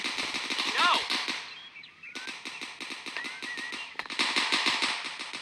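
Rapid automatic rifle fire in the video game Dude Theft Wars, long steady bursts of crisp shots with a short pause midway, plus a brief whistling effect.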